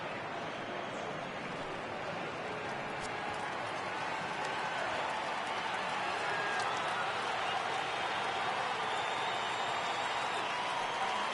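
Simulated crowd in a baseball video game rising for a full 3-2 count, a steady roaring cheer that swells gradually across the clip, loud and continuous with no clear individual voices.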